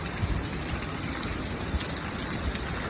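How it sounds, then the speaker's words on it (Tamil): Heavy rain pours down in St Louis, Missouri, a dense, constant rushing hiss close by with no break and no voices. "நல்ல மழை நல்லா அடித்து பெய்யுது"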